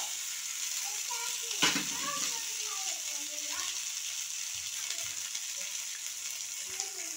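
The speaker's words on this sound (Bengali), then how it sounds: "প্রথমে আমি গাজরটা একটু ভেজে নেব, নেড়ে নেব" Carrot pieces fry with curry leaves in a pan for a spiced flattened-rice pulao, giving a steady soft sizzle throughout, with a sharper scrape or clatter of stirring near the start and light intermittent knocks after.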